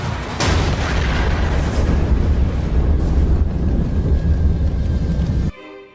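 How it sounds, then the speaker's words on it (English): A massive explosion sound effect representing the Chernobyl disaster: a loud, sustained low rumble that roars for several seconds and then cuts off abruptly. "Explosion."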